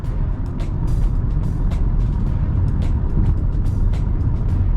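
Engine of a Kia Sportage HEV SX Prestige revving higher after a downshift on a night drive, a steady loud road-and-engine drone with faint clicks over it, no talking.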